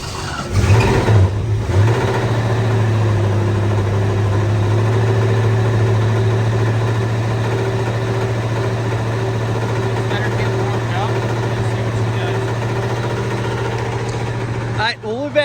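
A 1965 Ford Mustang coupe engine idles steadily and close by for the whole stretch, with a brief rev near the start and a sudden stop at the end, while people talk over it.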